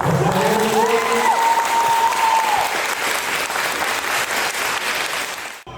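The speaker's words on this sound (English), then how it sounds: "So we need to give them a lot of applause" Crowd applause for youth in brown gowns at a graduation ceremony, loud sustained clapping with a brief sung or called voice early on, tapering slightly toward the end.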